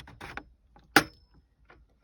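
Metal retaining clips ping as plastic interior trim is pried off a Mk5 Volkswagen Golf. One sharp, bright metallic snap stands out amid a few faint clicks and rustles.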